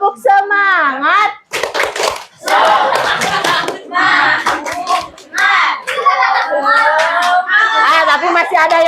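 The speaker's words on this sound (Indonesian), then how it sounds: "Oke, yuk kita tepuk semangat dulu biar semuanya semangat." A group of children at a youth health post gathering perform a rhythmic chanted clapping routine, loud bursts of hand claps mixed with shouted group voices, close and energetic.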